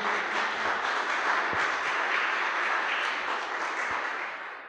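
A church congregation claps loudly and continuously, a dense wash of many hands with a few sharper individual claps, sustained throughout and tapering slightly at the end.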